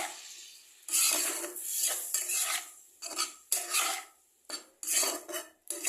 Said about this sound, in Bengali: এটাতে একটু জল দিয়ে এটাকে আমি নাড়বো, নাহলে তলায় লেগে যাবে।